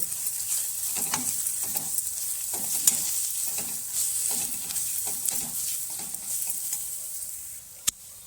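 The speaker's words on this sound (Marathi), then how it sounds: "मिरची पावडर घालते अर्धा चम्मच गरम मसाला अर्धा चम्मच सर्व मसाले मिक्स करून घेते" Chili powder and garam masala stirred into misal gravy frying in a pan, Kolhapuri style: a steady sizzle with repeated scraping stirs throughout, close and fairly loud, and no speech.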